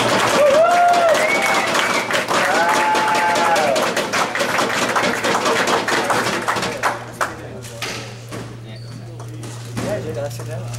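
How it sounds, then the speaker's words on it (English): Spectators applaud at a squash exhibition match in Saskatoon, a steady burst of clapping from a modest crowd that thins out toward the end, with a voice speaking over it. "round of applause for our two participants."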